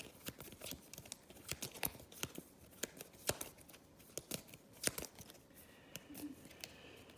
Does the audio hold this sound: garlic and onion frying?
no